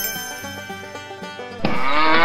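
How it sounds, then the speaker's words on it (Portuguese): A toy farmhouse plays a cow moo behind its blue door, a short melodic jingle giving way to a loud, sustained bovine low near the end, with no talking. "A vaca mora atrás da porta azul."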